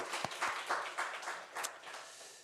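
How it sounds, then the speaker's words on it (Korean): Church congregation applauding during a Sunday worship service, a short burst of scattered hand clapping that fades out, with a few louder claps standing out. "우리 하나님께 영광의 박수 올려드리겠습니다."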